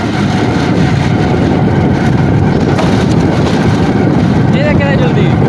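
A motorcycle engine runs loud and steady throughout, a constant close rumble with no clear rev peaks, mixed with road noise.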